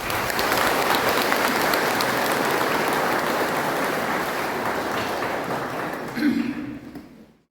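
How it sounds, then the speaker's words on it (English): Big crowd applause at a college graduation day, a dense rain-like wash of clapping that holds steady, then tapers and dies away with a brief voice near the end. "let us all give them a huge round of applause"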